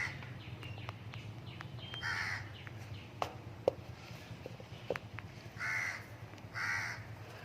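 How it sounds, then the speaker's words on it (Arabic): Young crow cawing on a street in Malaysia, three short harsh caws spaced a second or two apart, moderately near, over faint traffic hum and a few sharp knocks. "هذا الغرابي صغير"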